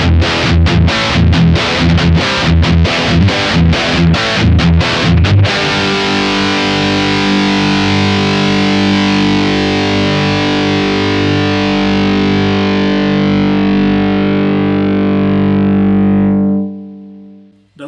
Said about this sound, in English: Let's see how this profile sounds with the Gibson SG instead.